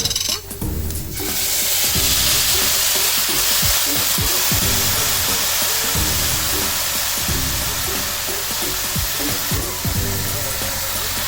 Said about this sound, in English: now I'm going to add my tomato sauce